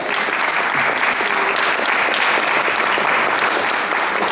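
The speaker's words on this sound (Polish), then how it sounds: "Rafał Majka, wielkie brawa!" An audience at an event in Poland welcoming cyclist Rafał Majka with hearty applause, a dense, even wash of many hands clapping at once, loud and sustained for the whole stretch.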